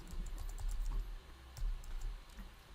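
Fingers typing on a computer keyboard while entering an account name, a quick irregular run of close, crisp key clicks with brief pauses and no voices.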